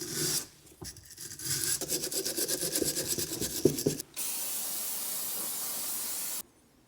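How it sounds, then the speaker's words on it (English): An old bristle brush scrubs parts of a BMW E36 188mm limited-slip differential during restoration, giving a steady close rasping and rubbing for several seconds, then a softer hissing wash before quiet. "Then we'll simply grab this old bristle brush here."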